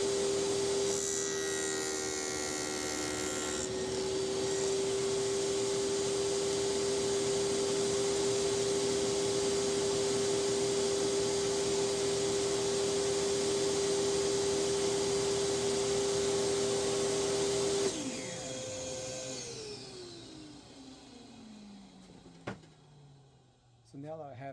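A power saw cuts a dado in a wooden board for box joints, a steady loud whine running unbroken for about eighteen seconds before the motor cuts out and spins down.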